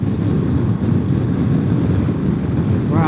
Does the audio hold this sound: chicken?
no